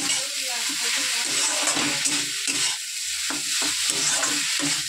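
Maggi noodles fry in the oil left from fried eggs while being stirred, a loud continuous sizzle broken by scraping spatula strokes against the pan, close by with no clear talk.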